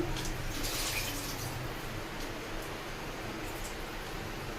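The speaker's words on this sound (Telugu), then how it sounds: "ఇప్పుడు వాటర్ వేసుకోవాలి." Water poured into a pot of village-style fish curry (chepala pulusu) soured with tamarind, a steady, close, continuous splashing rush that lasts throughout with no talk.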